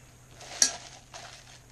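Metal cutlery handled while unboxing a subscription box, a single faint clink followed by soft rattling and a quieter second jostle, close by in a quiet room.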